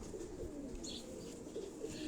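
A pigeon on a rooftop gives a faint, low, soft cooing, heard distantly against a quiet background hum.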